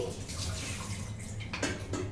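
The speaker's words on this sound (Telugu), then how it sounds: "ఆ నీళ్ళను ఇట్లా పట్టేసుకొని గిన్నెలలో అలా పట్టేసుకొని కడుగుతున్నాం అన్నమాట" Water runs and splashes softly into vessels being filled for washing dishes and clothes indoors, a faint continuous trickle with light irregular splashes.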